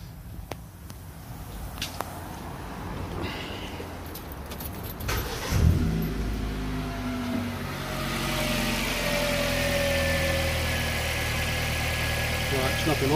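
An engine cranks for about 1.7 seconds during a battery cranking test, fires, and settles into a steady idle; a few clicks and brief speech come before the start.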